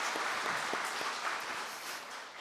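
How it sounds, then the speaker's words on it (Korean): A church congregation applauds the church school children during a New Year prayer service, steady dense clapping from many hands filling the room throughout, with no talk over it. "우리 교회 학교 친구들 위해서 박수 한번 합니다."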